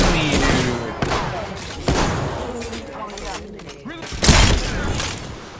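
Rapid bursts of gunfire and sharp impact cracks from the video game Apex Legends sound close and loud, coming in repeated volleys with a heavy burst near the end, while someone talks over them.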